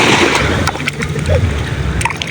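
Strong sea waves splash and slosh onto a fine-sand beach at Boracay at night, loud and close, with people's voices mixed in.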